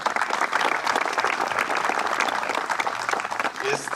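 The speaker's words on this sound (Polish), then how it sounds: "Wielkie brawa, szanowni państwo." An outdoor crowd applauds at a youth fire brigade competition in Chocianów, continuous loud clapping from many people that stays steady throughout, with a short voice breaking in near the end.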